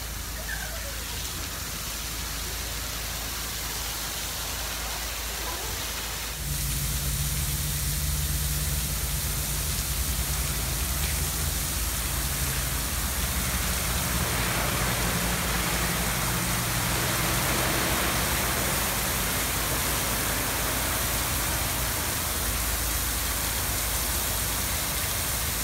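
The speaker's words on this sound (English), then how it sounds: "rain's on, they're gonna roll." Artificial rain from a rain machine pouring steadily on a commercial film set, a continuous broadband hiss that swells louder partway through and then holds, with faint low hum underneath.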